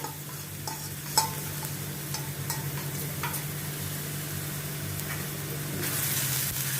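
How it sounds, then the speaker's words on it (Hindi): Onion and garlic sauté in a pan for a homemade cheese omelet pizza, giving a soft, steady sizzle with occasional light spatula taps, fairly quiet and without speech. "अभी इनको अच्छी तरह से थोड़ा सौते करती हूँ"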